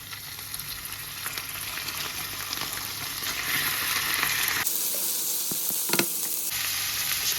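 Meat frying in an open pan for Kazakh shah plov gives a steady, loud sizzle throughout, with a few brief scraping or clinking touches near the end.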